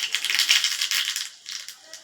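Mustard seeds hit hot oil in a small pan for tempering, giving a bright, dense crackling sizzle that sputters busily, briefly dips, then picks up again, close by.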